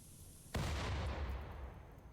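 Mortar shells blowing up in RimWorld: a single sudden loud blast that starts abruptly and rumbles and decays for over a second afterward, with nothing else heard.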